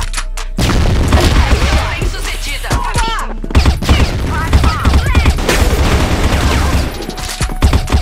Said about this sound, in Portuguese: Olha a bomba!